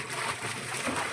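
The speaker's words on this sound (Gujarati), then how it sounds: "બેરલમાં પાણી નાખે છે" Water poured into a barrel on a farm while organic fertilizer is prepared, a brief continuous splashing hiss at moderate level.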